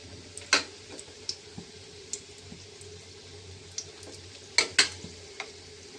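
Quiet, steady crackle of sweet pumpkin flower fritters frying in oil, with scattered sharp pops and ticks, a few louder bursts standing out.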